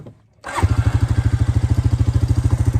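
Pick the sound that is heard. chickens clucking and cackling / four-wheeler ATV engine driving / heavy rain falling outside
four-wheeler ATV engine driving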